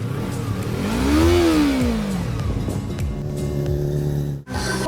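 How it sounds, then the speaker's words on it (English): An engine revs up and down, its pitch rising and then falling away in one sweep, loud and near, and it cuts off abruptly near the end. "Let's get revving."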